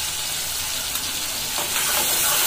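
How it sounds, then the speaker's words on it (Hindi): A masala of tomato, green chilli, coriander and Kashmiri chilli fries in a pan with a loud, dense, continuous sizzle, swelling slightly as it is stirred. "तो इस मसाले को हम अच्छे से भूनेंगे।"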